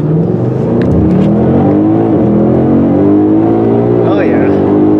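A supercharged 700 hp Roush Mustang accelerates hard on a race track, its loud engine note climbing steadily in pitch before dipping at a gear change, while people talk over it inside the car.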